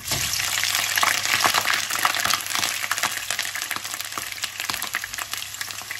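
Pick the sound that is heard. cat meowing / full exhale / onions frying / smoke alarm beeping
onions frying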